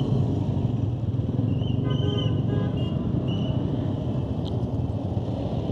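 Motorcycle riding out of Barisal city on a bike tour, a steady engine drone with road and traffic noise running throughout, close and continuous, with a brief horn-like toot partway through.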